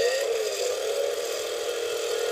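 A Bosch toy chainsaw runs continuously with a steady buzzing motor whine, close and moderately loud, the pitch rising slightly at first before holding even.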